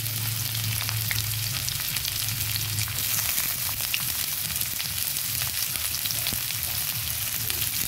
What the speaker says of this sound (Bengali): এখানে একটা বড় সাইজের পেঁয়াজ কুচি করে দিয়ে দিচ্ছি এবং সঙ্গে দিয়ে দিচ্ছি একটুখানি রসুন কুচি,